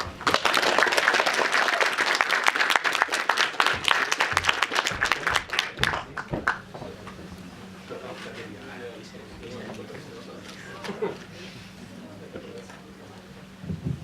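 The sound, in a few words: audience applause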